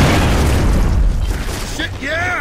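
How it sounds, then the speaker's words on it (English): A frag grenade explodes in a 5v5 Execution match of a multiplayer shooter, giving a loud, dense low boom that fills the first second and then decays into rumble while voices talk over it. "Incoming frag!"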